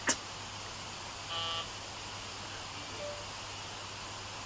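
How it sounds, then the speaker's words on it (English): A mobile phone notification goes off once as a brief tonal beep, faint and close-by against steady room hiss, with a tiny later blip; no one speaks. "my phone's going off so much while I'm filming"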